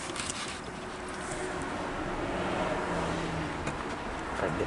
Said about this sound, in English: If I can get past the cars.